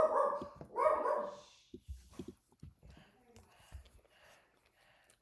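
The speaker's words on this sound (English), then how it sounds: "Sorry about my dog." A pet dog barks twice loudly and close at the start, then quieter huffs and whimpers follow indoors, with a person talking softly in the background.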